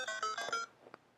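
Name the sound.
telephone ringing with an incoming call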